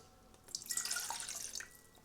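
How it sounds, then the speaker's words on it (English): About 300 ml of water pours into a pot beside a Trangia 23 open spirit stove, a short trickling splash that is close and soft, with no talk. "300 mils of water"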